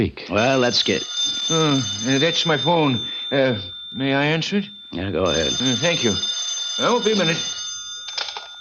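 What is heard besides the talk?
telephone ringing, radio drama sound effect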